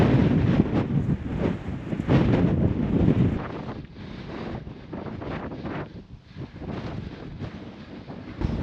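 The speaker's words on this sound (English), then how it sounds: "The wind's blowing hard, harder than we forecast, I think." A strong gale buffets the microphone on a lane in the Yorkshire Dales, roaring loud and gusty near the start, then easing into a steadier, somewhat softer rush.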